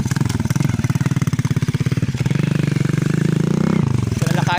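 A motorcycle engine runs close by on a rural island trail, a loud, pulsing putter that rises and settles, with people talking faintly over it.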